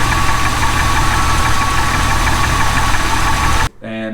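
A car engine runs steadily with a deep, rough bottom-end knocking from low in the motor, loud and close, then cuts off abruptly near the end.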